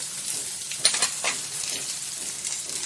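Ginger-garlic with turmeric and chilli powder for chicken curry fries in hot oil, a steady close sizzle broken by a few scraping stirs near the start, with no talking.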